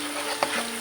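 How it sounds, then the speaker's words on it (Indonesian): A spoon scrapes once through shrimp stir-frying in a pan, set against a steady hiss of sizzling oil, close and brief. "Aduk-aduk lagi."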